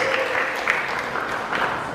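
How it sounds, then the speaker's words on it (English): Audience applause at a Pakistan Independence Day gathering, a brief steady patter of clapping from a crowd with a few louder claps and faint voices mixed in. "give that a round of applause"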